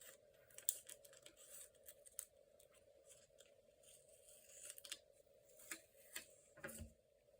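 Paper being cut down with scissors for a creative journal spread, quiet close snips and rustles at an uneven pace over a faint steady hum.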